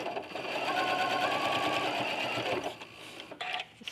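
Sewing machine stitching pieced applique for a quilt, a steady close whirring run of about two and a half seconds that stops, followed by a few faint handling sounds.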